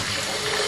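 Hot water pours into a Waring Pro soup maker jug, a steady close rushing splash that holds even for under a second with no other sound.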